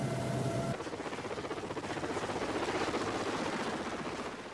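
A helicopter's rotor chops with a steady, fast pulse, loud and close, during Royal Marines training, holding an even throb from start to finish.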